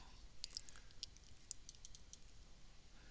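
A computer mouse clicked quietly several times, each a faint, sharp tick close by, spaced unevenly over a hushed, low background.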